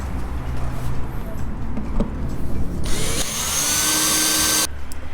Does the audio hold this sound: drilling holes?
yes